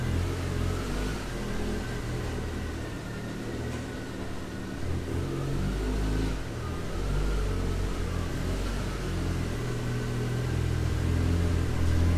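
A camshaft-upgraded big-turbo 1.8T engine in a Mk2, running on E85, drones and revs steadily on a chassis dyno. The engine is loud and sustained throughout, with a rough low rumble and a whining tone above it, and no speech.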